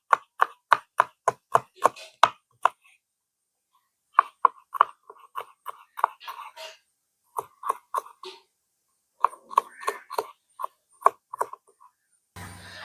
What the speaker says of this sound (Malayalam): നമ്മൾ ഉള്ളിയെല്ലാം തൊലിച്ചെടുത്ത് നമുക്ക് ചെറുതായിട്ടൊന്ന് കട്ട് ചെയ്തെടുക്കാം